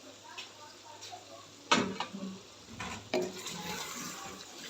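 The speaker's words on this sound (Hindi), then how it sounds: "इसको अच्छे से मिक्स कर देंगे।" A spoon stirs cream into chicken karahi in a pan, giving a few sharp scraping clinks against the metal over a low background hum, with someone speaking briefly.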